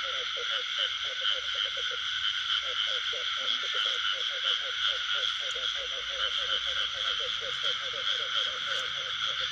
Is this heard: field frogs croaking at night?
yes